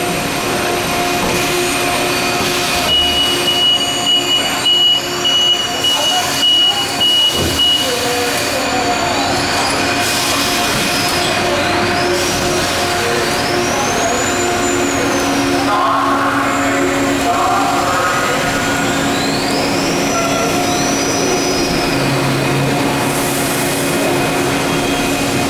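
A 2007 Haas EC-400 horizontal machining center runs steadily with coolant spraying against the window, a dense continuous whir with rising and falling whines from the spindle, heard alone throughout.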